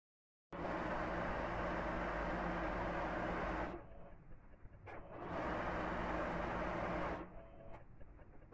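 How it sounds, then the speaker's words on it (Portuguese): A sewing machine runs a long straight gathering stitch around a skirt, whirring loud and steady for about three seconds, pausing briefly, then running again for a similar stretch before stopping. "vou franzir na máquina toda a circunferência"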